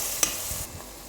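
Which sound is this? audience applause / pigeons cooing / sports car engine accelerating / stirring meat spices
stirring meat spices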